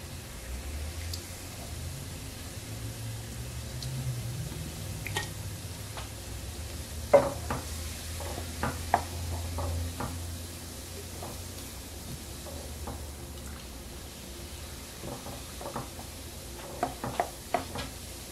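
Chicken simmering in Coca-Cola in a pan, a low steady sizzle with scattered clicks and taps of stirring utensils throughout, no voices.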